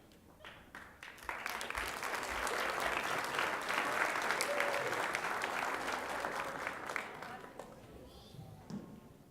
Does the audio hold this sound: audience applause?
yes